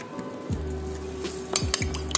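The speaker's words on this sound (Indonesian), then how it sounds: "Kita pecahkan 1 telur." An egg is cracked for a sweet and sour gourami fish dish: a couple of sharp clinks against a bowl near the end, close and fairly soft, over a steady low musical background.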